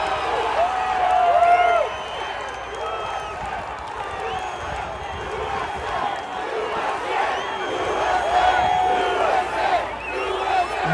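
A big political rally crowd cheers and shouts continuously, with chanting voices and whoops rising and falling over a dense roar of many people, loudest near the start and again toward the end.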